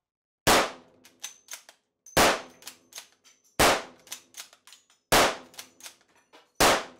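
British bolt-action rifle fire in the World War II shooter Hell Let Loose: five loud, sharp shots spaced about a second and a half apart, each followed by a metallic bolt-cycling clatter, with no talk.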